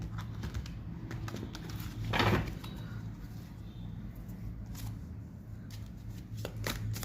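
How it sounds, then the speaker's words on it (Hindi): Tarot cards are shuffled in a quiet indoor setting, a soft continuous riffling and flicking of card edges with one brief louder rustle, faint and alone. "ये कार्ड उल्टा लिए।"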